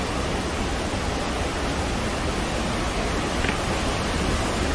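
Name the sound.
waterfall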